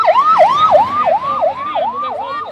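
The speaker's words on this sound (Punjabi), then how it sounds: "ਅਰੇ ਐਂਬੂਲੈਂਸ ਲੰਘ ਗਈ" An ambulance siren wailing in a fast, regular rising-and-falling cycle, loud and close as it passes a roadside police blockade of farmers, with no voices over it.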